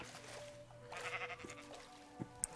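A Minecraft sheep gives a short, thin bleat, and a couple of faint in-game blips and clicks follow. The clip is mostly quiet and ends with a sharp louder hit.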